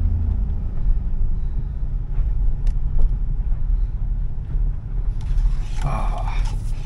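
A 2001 GMC Yukon engine rumbles steadily while driving, with low road noise and a brief higher whine near the end.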